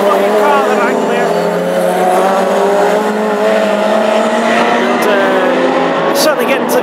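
Classic hot rod race cars, including a Ford Anglia, roar around an oval track in Birmingham, their engines a loud, steady, overlapping drone for the whole stretch, with a commentator's voice faintly over them.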